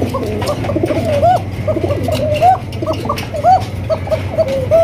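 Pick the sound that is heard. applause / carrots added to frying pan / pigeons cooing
pigeons cooing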